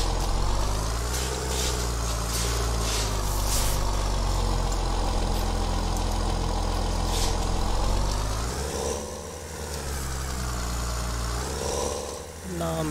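A New Holland 3630 tractor in Farming Simulator 22 pulls a super seeder with a steady, loud low engine drone that dips briefly near the end, with voices talking over it.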